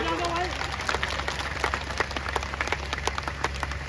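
Crowd at a Rajput community village panchayat gathering clapping in an outdoor setting, a steady patter of claps over a low hum, with a voice heard briefly at the start.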